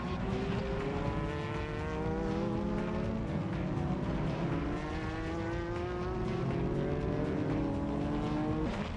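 GT300 race cars in the 2002 Japan GT Championship scream past one after another, rising and falling engine notes overlapping at a steady moderate distance with a continuous roar beneath.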